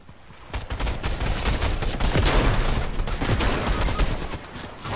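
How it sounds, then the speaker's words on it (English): Dense, continuous video game gunfire, a loud rapid fusillade of overlapping shots running through the whole stretch without pause. "I'm getting shot at."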